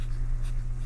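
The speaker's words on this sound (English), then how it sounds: "So I'm gonna write that here." Pencil writing by hand on paper during a Spanish alphabet lesson, a soft brief scratch of strokes over a steady low hum, close and quiet, with no talking.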